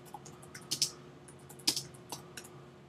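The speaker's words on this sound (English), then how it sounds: "If I type in real estate, or actually let's just type in homes for sale." A search being typed on a computer keyboard: a quiet, close run of irregular key clicks with a few sharper taps, heard alone.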